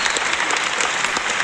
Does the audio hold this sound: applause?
yes